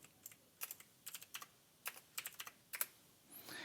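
Quiet computer keyboard typing a chmod command, about a dozen light, close key clicks coming in short irregular clusters over a few seconds, with a soft rustle at the end.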